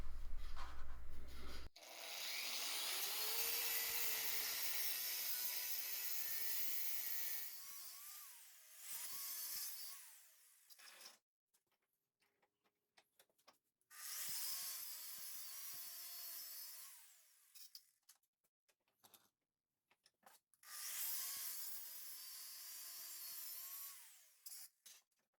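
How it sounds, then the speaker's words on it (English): A tool slices lengthwise down the outer tube of a chrome exhaust pipe from a Yamaha V-Star 650, giving long grinding, whining passes up close. Each pass is separated by quiet gaps with small clicks and knocks. "Now we're slicing down the center of the outer tube,"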